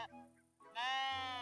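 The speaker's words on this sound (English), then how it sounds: "Ah, the sheep." A sheep gives one short, steady, nasal bleat, close and loud, following a brief faint sound and a pause of near silence.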